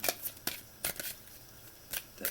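A deck of tarot cards is shuffled up close in a few quick, crisp riffles separated by short pauses, with no talking.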